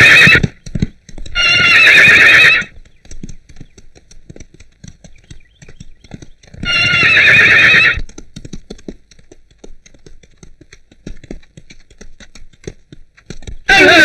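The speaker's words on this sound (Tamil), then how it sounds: "அந்த முரட்டு குதிரை யாருக்கு அடங்க மாட்டேங்குது" A horse whinnies loudly twice in long shrill bursts, with sharp hoof clip-clops tapping steadily between and after the neighs, close and clear.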